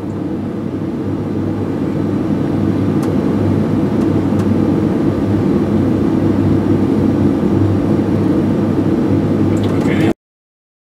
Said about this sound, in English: Once these engines have started